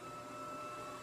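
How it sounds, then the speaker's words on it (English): ECOVACS DEEBOT M80 Pro robot vacuum running in regular auto mode, a steady broadband whir with a faint high tonal whine, continuous and close, with no talking. "when the device is on regular auto mode, it makes a sound"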